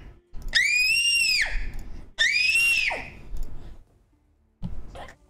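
A child screams loudly indoors, two long, piercing shrill bursts with a pause between, then a shorter cry at the end; no talk over it.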